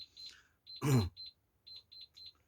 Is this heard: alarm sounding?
yes